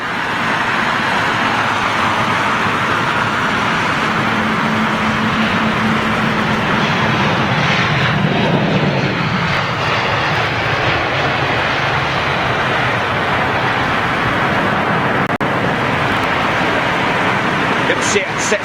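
A jet at Heathrow, likely an Airbus A319 with CFM56 engines, rumbles steadily at moderate distance in stormy weather, its broad roar swelling and fading midway while faint background noise continues.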